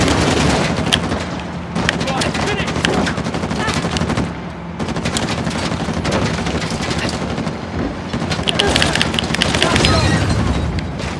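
Gunfire in Uncharted: The Lost Legacy, dense bursts of rapid automatic shots and occasional heavier booms continuing throughout, with people talking over the shooting.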